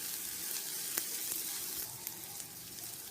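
Onions sizzle steadily in a hot pan for an Afghani omelette, a close, continuous frying hiss with a few sharper crackles and pops and no talking.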